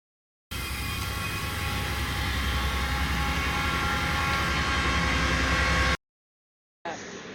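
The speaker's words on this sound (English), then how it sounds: "Wait in the train station." Steady, loud rumbling rail noise fills a crowded big-city train station, a broad continuous roar holding for several seconds before cutting out, then resuming briefly.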